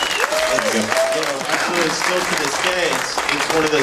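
Applause from a screening audience during a post-film Q&A, clapping heard under ongoing conversation throughout.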